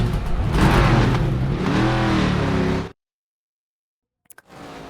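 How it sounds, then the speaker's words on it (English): Race car engines in the NASCAR 25 video game, pulling out of the pits during practice at Dover Motor Speedway, a loud revving roar that cuts off abruptly into silence before a faint engine returns. "Practice is in full swing, and drivers are heading out onto the track."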